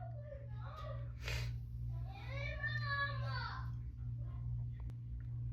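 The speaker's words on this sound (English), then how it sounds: "Y'all might hear my kids in the background." Young children's voices chatter and squeal in the background over a steady low hum, some high-pitched and whiny.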